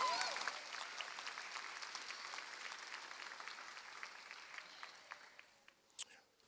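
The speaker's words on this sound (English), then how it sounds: "Let's make sure to give them another round of applause," Audience at a college commencement ceremony giving a round of applause, a steady wash of clapping that slowly fades near the end, fairly faint and distant, with a few murmuring voices in the crowd.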